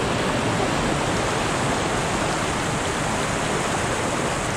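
A trout river rushes nearby, producing a loud, constant broadband wash of flowing water with no pauses or other sounds.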